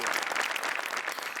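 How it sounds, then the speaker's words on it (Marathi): A studio audience at a Marathi television comedy show claps in a loud, dense burst of applause that holds steady through the whole short stretch. "जोरदार टाळ्या"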